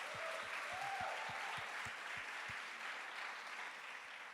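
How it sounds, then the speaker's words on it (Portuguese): A church congregation applauds, a soft wash of many hands clapping, distant and faint, with a low rhythmic thump beating underneath through the first half. "Então, vamos aplaudir Jesus pela vida dele?"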